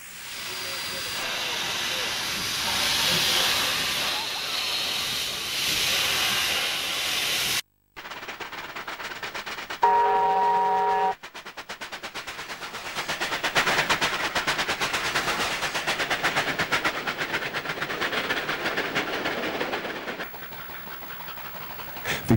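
A pair of Australian steam locomotives at Culcairn, between Junee and Albury, hissing and chuffing, with loud broadband steam bursts, a sharp cut partway through and a brief whistle-like tone, then renewed rapid exhaust beats.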